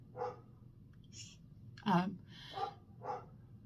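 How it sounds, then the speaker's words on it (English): Neighbouring dogs barking next door, a few faint, distant yips and barks spread across the moment, partly overlapping a quiet voice indoors. "The dogs next door are not very happy"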